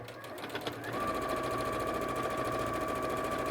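A sewing machine runs steadily, stitching the lining seam of a cork bag with backstitching at each end, a continuous close whir after a brief start with no talk.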